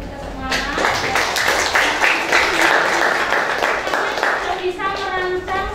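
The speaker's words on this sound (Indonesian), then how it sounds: "Tepuk tangan untuk kita semua." A classroom of students applauds with a steady burst of hand clapping, and children's voices and chatter mix in over the claps.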